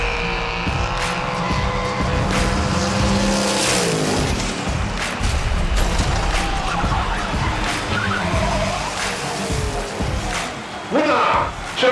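Hot Wheels diecast cars race down a toy track with a rushing, rolling whir and clatter, while an excited commentator speaks over the run and a sharp clack comes near the end.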